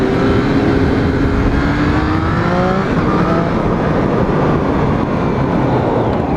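A 2014 Triumph Street Triple ABS motorcycle is ridden in second gear, its engine rising and falling in pitch through revs, loud and close with heavy wind rush, no speech.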